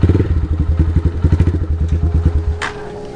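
A motorcycle engine idles with a rapid, pulsing thump close by, then cuts out near the end, followed by a brief clatter as the bike is moved.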